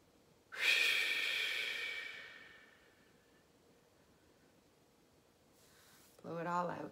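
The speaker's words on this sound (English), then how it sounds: "Again, some nice deep breaths in." A slow, deep inhalation followed by a long exhalation, close and clear, as part of a guided relaxation exercise for releasing tension; a spoken voice begins right at the end.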